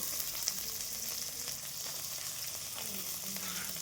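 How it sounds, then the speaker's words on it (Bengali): Chopped onion and garlic fry in hot mustard oil, a steady close sizzle and crackle that carries on without pause, with no voices over it. "গরম তেলে পেঁয়াজ কুচি রসুন কুচি দিচ্ছি"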